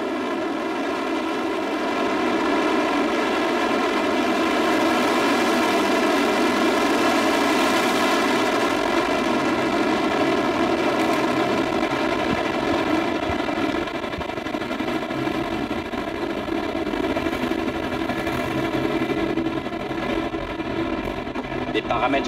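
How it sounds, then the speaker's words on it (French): Soyuz rocket lifting off from the Guiana Space Centre at Kourou, its first-stage engines giving a steady, loud, broadband roar that holds for over twenty seconds, with a voice speaking over it. "ce 23e Soyouz depuis le sol guyanais qui a pris son envol"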